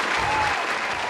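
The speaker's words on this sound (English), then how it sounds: "slight clap." Brief, light applause from a small group, a soft steady patter of claps.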